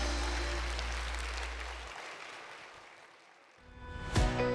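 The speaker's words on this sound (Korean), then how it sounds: "다시 한번 크게 박수해 주시기 바랍니다." Church congregation applauding during a Sunday service, a broad wash of clapping that gradually fades away, followed by a short silence and a single dull knock.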